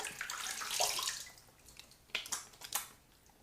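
Tap water runs and splashes while shave soap is rinsed away, a steady wash at first, then a few sharper splashes and drips close by, with no one talking.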